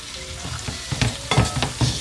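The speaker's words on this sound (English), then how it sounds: "I'm gonna just go ahead and throw my sausage in." Sausage sizzling and frying in a pot, being stirred in preparation for a crawfish boil, with crackling fat and several scraping stir strokes close up.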